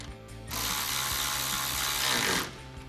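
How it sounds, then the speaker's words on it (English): A ratchet fitted with a 5mm Allen socket tightens a bolt on a Ford F-150 EcoBoost air intake install, giving one close, continuous burst of rapid clicking lasting about two seconds. "To tighten that bolt down, we're going to be using a 5mm Allen socket and a ratchet."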